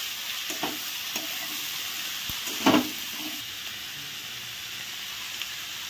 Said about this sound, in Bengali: এখন নেড়ে চেড়ে ভেজে নিচ্ছি